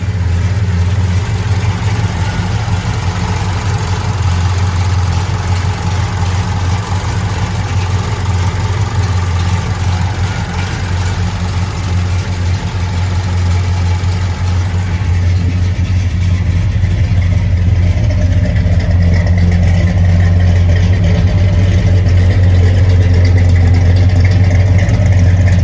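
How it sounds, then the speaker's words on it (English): A 1965 Ford Galaxie engine runs at a steady, loud idle, a deep continuous rumble close by that thickens slightly partway through. "All right, we're gonna start it up, take it for a test drive."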